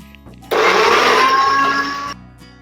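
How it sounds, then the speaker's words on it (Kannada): A kitchen blender grinds mango pulp smooth in one loud continuous burst of about a second and a half, with quiet room hum before and after. "ಮ್ಯಾಂಗೋ ಪಲ್ಪನ್ನ ನೀಟಾಗಿ ಸ್ವಲ್ಪ ನುಣ್ಣಗೆ ರುಬ್ಕೊಳ್ತೀನಿ."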